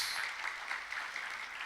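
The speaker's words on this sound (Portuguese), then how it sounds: "Mais forte esse aplauso." A church congregation claps together in a steady, dense patter of applause, heard from some distance and fairly soft, with no voices over it.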